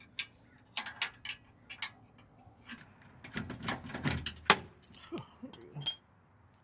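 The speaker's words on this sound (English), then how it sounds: "So we're going to loosen up this bolt and see if we can at least get a little bit of wiggle room here." Wrench loosening a bolt on the step bracket of a 2024 or later fourth-generation Toyota Tacoma, a series of sharp ratcheting clicks and metallic ticks in irregular bursts close by, with no talking.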